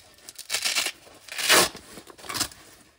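A Velcro pocket on a tactical chest rig is pulled open in three separate ripping bursts, each a short, harsh tearing rasp, the loudest in the middle, with quiet gaps between and no talking.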